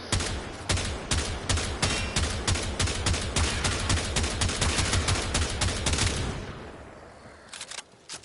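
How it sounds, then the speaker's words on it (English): Semi-automatic gunfire in the Warframe video game: a fast, loud, sustained string of sharp shots for about six seconds, then a fading tail and a few scattered final shots. "let's use the semi-auto fire for higher crits"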